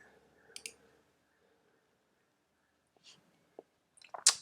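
Computer mouse clicking at a desk during browser setup: a few sparse, quiet clicks with long silent gaps and a brighter, slightly louder click cluster near the end.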